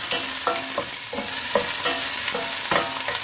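Onions stir-fry in a pan: a steady sizzle runs throughout while a utensil scrapes and stirs in repeated short strokes roughly every half second, close and without talk.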